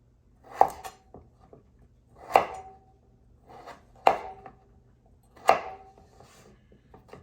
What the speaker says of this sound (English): All right, I have the kabocha squash ready. What we're gonna do, we're just gonna cut it into cubes now.